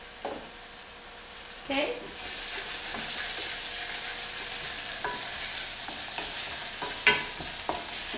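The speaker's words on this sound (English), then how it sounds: "Let the onion and the garlic sweat out a bit." Onion and garlic sautéing in a pan give a steady, close sizzle with a few sharper stirring scrapes, and one brief spoken word cuts in near the start.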